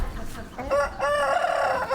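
Chickens in a coop cluck and a rooster crows, its strained, stretched call rising and holding near and loud, with brief clucks before it and one at the end.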